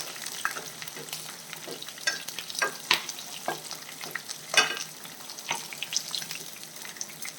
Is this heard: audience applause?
no